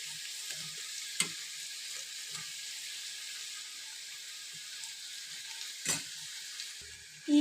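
Cauliflower pieces for gobi manchurian fry in oil over a low flame, a quiet, even hiss with a few faint pops and a couple of brief utensil knocks; no one speaks.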